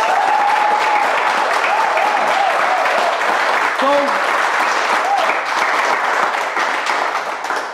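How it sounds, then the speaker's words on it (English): Sustained audience applause at a motivational talk, a loud, steady wash of clapping throughout, with a voice speaking briefly over it. "A round of applause."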